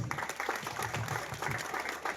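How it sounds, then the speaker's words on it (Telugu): Brief, fairly quiet applause from a small group at a school health camp event, a couple of seconds of scattered clapping. "ఒక్కసారి అందరూ ప్రభాకరణకు ఒక చప్పట్లు కొట్టాలని"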